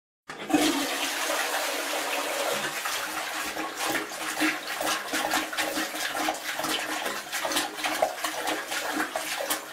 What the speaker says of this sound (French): il va falloir vider l'eau des toilettes et la sécher entièrement